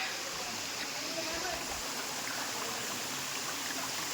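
A waterfall at Chakratirtha in Keonjhar, Odisha, roars in a steady, unbroken rush of falling water, loud and constant, with no other sound standing out.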